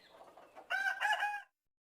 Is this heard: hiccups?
no